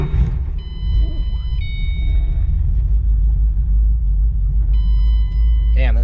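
Supercharged car engine with a 6R80 transmission and new billet motor mounts, starting and settling into a loud, heavy low rumble that runs throughout; a chime beeps twice and someone talks over it.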